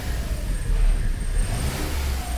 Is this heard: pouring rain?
no